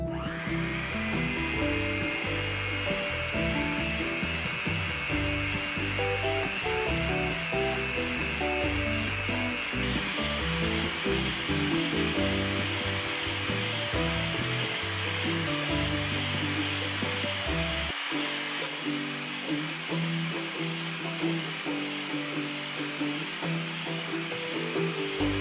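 An electric mixer beats melted butter and sugar at medium speed for a pineapple upside-down cake, a continuous whining motor hum that holds steady and shifts pitch partway through.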